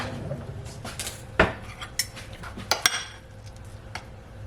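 A knife and a plate picked up in a home kitchen, giving several sharp clinks and clatters of cutlery against dishes over quiet room tone, with no talking.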